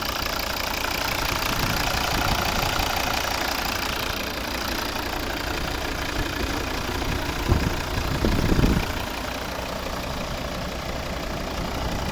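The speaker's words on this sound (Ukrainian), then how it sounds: "Дуже класно працює двигун." A 2012 Volvo V60 R-Design 2.0 D3 diesel engine idles steadily with a low, even rumble and a slight knocking texture, with a brief louder rev-like swell near the end.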